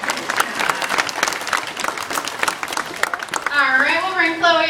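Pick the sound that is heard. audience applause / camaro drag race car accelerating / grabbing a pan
audience applause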